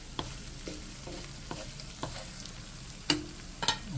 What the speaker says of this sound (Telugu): ఒకసారి కలిపేద్దాం